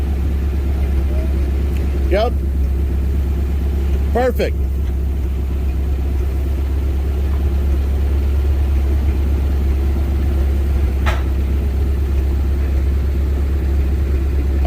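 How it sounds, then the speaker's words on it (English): A pickup truck towing a trailer eases out from under a lifted aquarium tank, its engine giving a steady low rumble with no sharp revving, while a voice speaks a couple of brief words. "We're gonna take the truck and move it out from under the tank now."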